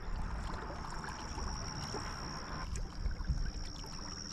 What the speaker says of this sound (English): Makes a nice gurgling sound.